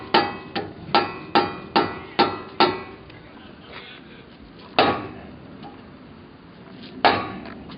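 A hammer drives an open-end wrench in as a wedge during Hummer H3 front-end repair, with a rapid run of sharp metallic strikes at an even beat, then a pause and two more isolated, ringing blows.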